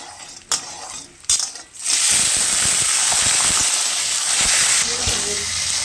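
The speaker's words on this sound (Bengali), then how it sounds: "ছোলাটা ভেজে নিলাম" Chickpeas and peanuts fry with spices in a pan in a home kitchen, a bright continuous sizzle following a few sharp clinks of a spoon against the pan at the start.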